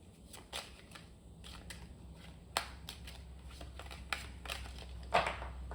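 Zodiac oracle cards are shuffled by hand, giving a quiet series of soft riffling swishes and crisp card slaps at irregular intervals, close and alone, with no talking.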